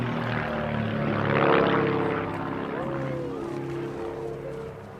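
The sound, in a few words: propeller aircraft with four-cylinder Lycoming engine flying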